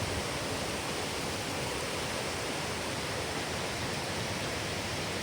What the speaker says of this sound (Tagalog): Lakas ng pressure ng tubig.